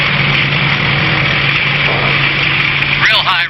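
Engine idling at around 2,300 RPM while warming up, a steady loud drone that holds throughout, with people talking over it near the end.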